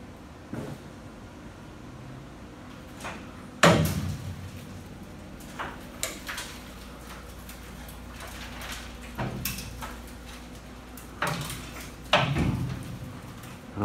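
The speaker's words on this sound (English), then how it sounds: "don't get too intimidated by all the creaking and cracking of the car" Intermittent creaks, groans and sharp cracks of a 1970 Chevrolet Chevelle body shifting as it turns on a rotisserie, with a few loud bangs scattered over a low rumbling background.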